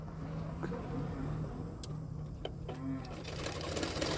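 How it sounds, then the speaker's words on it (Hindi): An electric sewing machine stitches the back neck of a double katori blouse joined to lining fabric, a steady low mechanical hum and whir running continuously at close range with a few light clicks. "अभी सिलाऊंगी बैक पार्ट, मतलब ये है बैक नेक।"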